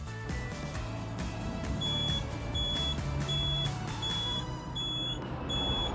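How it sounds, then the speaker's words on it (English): A Dometic fridge sounds its door-open fault alarm while the door is shut, a repeated high electronic beep pulsing at a steady rhythm over a constant low hum and background noise. "you can see that it's beeping saying that the door is open when clearly it's closed"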